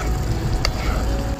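An egg fries in a pan on a camp stove during a winter cycling trip, giving a steady close sizzle throughout with one brief sharp crackle near the middle.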